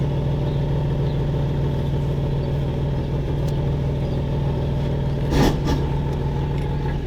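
An Infiniti G37 that had sat unused for a year rolls slowly down a driveway with a steady low engine drone. A brief louder scrape or thump comes near the end, and no one speaks.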